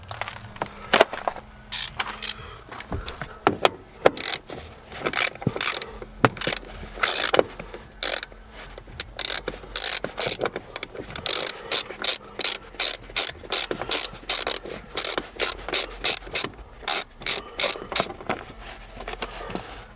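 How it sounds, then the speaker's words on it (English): A hand ratchet backs out a 10mm bolt holding the kick panel of a Nissan Xterra, giving long runs of rapid, crisp pawl clicks close by, with short pauses between bursts and a steady clicking rhythm near the end. "Move a 10mm bolt."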